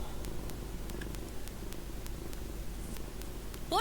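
A cat purring steadily and close, a soft low rumble with a regular pulsing rhythm that runs the whole time, then a brief brighter squeak right at the end.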